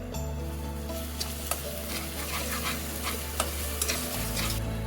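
Tomatoes and spices with dry masala fry and get stirred in a pan for a raw banana curry, making a continuous close sizzle broken by scattered scraping knocks of the spoon, with no voices.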